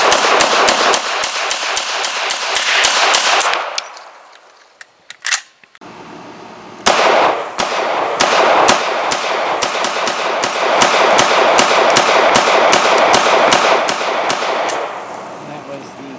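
A POF K pistol, an HK-style roller-locked gun, fires rapid, loud, sharp shots in a string, pauses briefly with some mechanical handling, then fires another long fast string.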